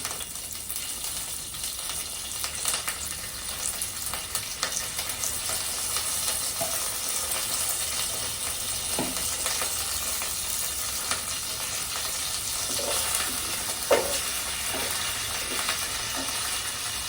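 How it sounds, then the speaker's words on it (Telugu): Hot oil hisses and sizzles steadily close by, with a few brief crackles and pops as curry leaves are added to the pan. "ఇప్పుడు తాలింపు వేగింది, కాస్త కరివేపాకు వేస్తున్నానండి."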